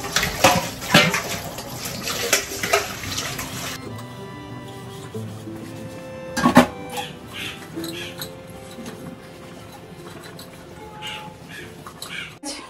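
Used utensils and pots being rinsed under running tap water in a home kitchen, with splashing and clinks of metal dishes at first, then quieter trickling water and occasional clatter.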